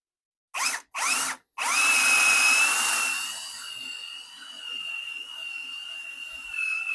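An Ozito power drill boring a hole into a piece of wood clamped in a vise, with two short bursts and then a steady whining run that settles to a lower, quieter hum.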